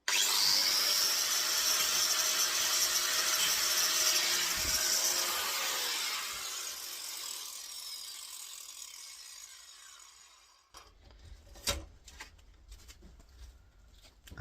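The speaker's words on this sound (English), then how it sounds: "Give it a little lick with the grinder to see." Angle grinder biting into the casing of a scrap compressor motor, a loud continuous abrasive whine for about six seconds that tapers off, followed by quieter handling clunks.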